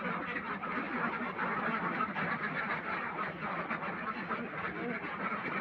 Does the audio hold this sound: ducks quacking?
yes